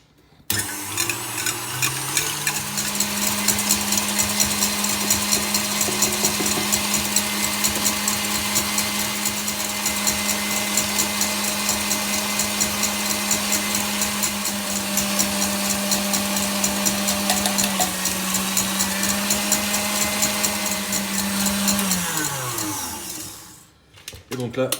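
An electric mixer whisks egg whites and caster sugar into meringue for homemade tiramisu, a loud steady motor whine that holds for about twenty seconds before winding down at the end.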